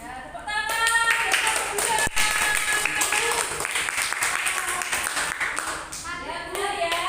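Students in a fourth-grade Indonesian-language classroom clap together, a dense, loud round of applause that runs nearly the whole time, with children's voices mixed in.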